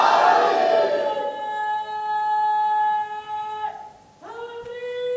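A large gathering chants a slogan back in unison, with loud, sustained massed voices in a drawn-out call that fades, pauses briefly and swells again.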